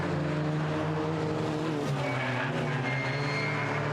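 Suzuki Swift cup race cars charge through a corner on a circuit, engines whining at high revs with a shifting pitch as one passes, tires faintly squealing, heard from trackside at moderate distance with no voices.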